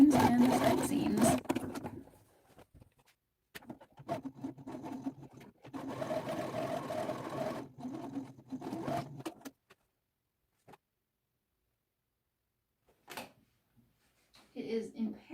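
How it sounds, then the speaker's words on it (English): A sewing machine stitching the side seams of a suit, running in several loud bursts of steady whirring separated by pauses, with a few quieter clicks and handling noises later. "next step is to sew the front and back together at the other seams and the side seams."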